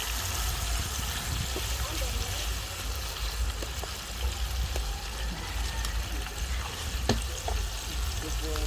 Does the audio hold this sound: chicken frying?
yes